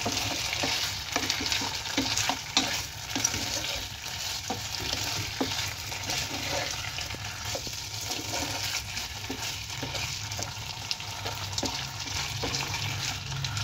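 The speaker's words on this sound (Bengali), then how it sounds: "স্বাদ মতো নুন, দিয়ে ভালোভাবে নেড়ে দেবো" Cauliflower being stirred with sugar and salt in a hot frying pan, a steady sizzle under repeated scraping strokes of the spatula, continuous and close throughout.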